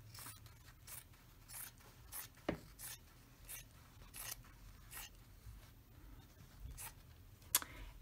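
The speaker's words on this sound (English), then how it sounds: "So I'm going to cut a long strip." Scissors snipping through a long strip of fabric, made up of quiet, crisp cuts that repeat at a steady pace of roughly one every half second, close by and soft, with nobody talking.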